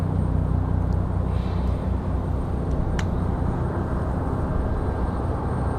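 A Southwest airliner arriving from St. Louis at Raleigh-Durham airport rumbles as a loud, steady, low engine roar that stays even the whole time, with a few faint clicks over it.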